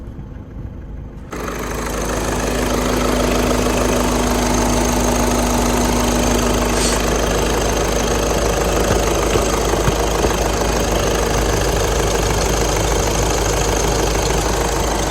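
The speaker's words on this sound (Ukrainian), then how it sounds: "Ідеальна робота двигуна взагалі" A Skoda Octavia TDI diesel engine idles steadily and loudly after starting up with the air conditioning on, a continuous rough rumble with faint knocking and no voices.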